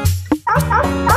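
A voice imitates a dog barking, two or three loud, close yips and woofs in quick succession on a Vietnamese food show.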